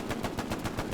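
Fast repeated gunshots in the World War II shooter Hell Let Loose, evenly spaced and close, forming a quick rattling burst with no voices.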